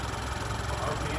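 A 2023 Chevy Colorado with the L3B engine idles steadily, a low, even mechanical rumble heard up close with no change in pitch over the short stretch.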